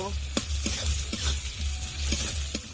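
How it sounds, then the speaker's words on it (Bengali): Crushed garlic and chopped onion fry in a pan for mutton curry, giving a steady sizzle broken by several rhythmic scrapes of a stirring spoon, with a low hum underneath. "থেতো করা রসুন পেঁয়াজ কুচি ভালো করে ভেজে নেব"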